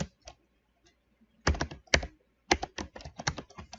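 Keys clack on a computer keyboard in close, crisp bursts, first a few isolated taps and then quicker runs of typing separated by short pauses.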